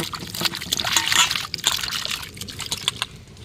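Water poured into a cooking pot on a lit stove in a home kitchen, a steady trickling and sloshing stream lasting a few seconds, close and moderately loud.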